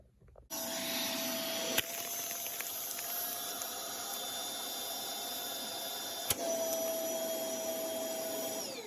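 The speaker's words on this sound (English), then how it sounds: "Now all I have to do is vacuum seal them and squish them to take up less space." A vacuum sealer runs continuously for several seconds while sealing bags of handmade items, a steady loud motor hum and hiss with a sharp click at the start and another partway through.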